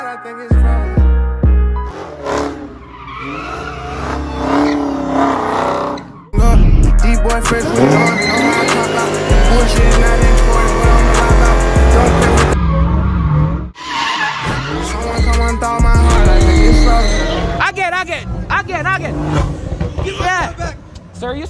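A Dodge SRT Hellcat Charger widebody drifts with loud, sustained tire squeal and a roaring engine, up close and breaking off in bursts, while people talk over it.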